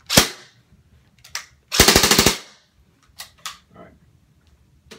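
A G&G CM16 airsoft rifle fires close by: a single sharp shot, then a rapid full-auto burst of about six snapping shots, followed by a few scattered lighter clicks and pops.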